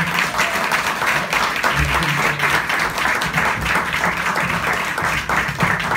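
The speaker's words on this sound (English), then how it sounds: "let's put our hands together and welcome Jesuit's Troupe" A theater audience at Castle Theater applauds steadily, a full and even wash of clapping welcoming the Jesuit's Troupe magic act onto the stage, with a voice faintly audible beneath.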